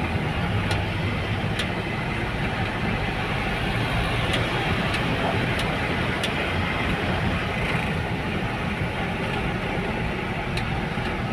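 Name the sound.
car engine revving during driving practice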